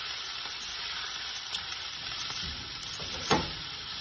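Onions and garlic browning in a pan for chili, cooked outdoors at a picnic, a steady close sizzle with a few light stirring clicks and one sharper knock near the end, no talk.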